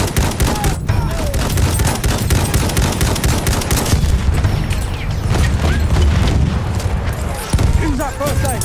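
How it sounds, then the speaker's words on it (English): Enemy machine gun fire in the Battlefield 1 video game rattles in dense, continuous bursts amid booms and mechanical clatter, loud and close throughout. "Enemy machine gun, sighted."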